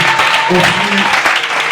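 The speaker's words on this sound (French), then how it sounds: "Est-ce qu'on peut acclamer?" Loud, close applause and cheering from a church congregation during an evangelist's testimony service, a dense burst of clapping with voices rising over it throughout the short moment.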